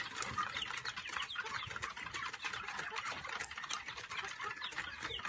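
Hungry rare and native backyard chickens cluck in a busy flock, many overlapping clucks and calls in a constant chatter at close range, with no talking.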